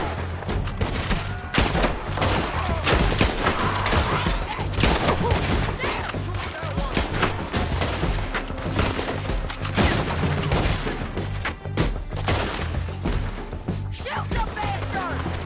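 Rapid gunfire from a PS4 shooter game rattles steadily throughout, dense bursts and single cracks layered together, loud and continuous with faint voices underneath.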